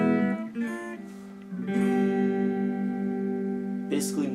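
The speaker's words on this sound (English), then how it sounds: "You should always practice first on the cleanest setting that you can put on your amp." An electric guitar through an amp on its cleanest setting rings out in two strummed chords, the second sustaining clearly for a couple of seconds before a brief scrape at the end.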